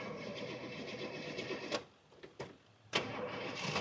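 A classic car's starter cranks slowly on a weak battery, a steady grinding churn that breaks off into brief pauses and bursts before resuming, faint and somewhat distant.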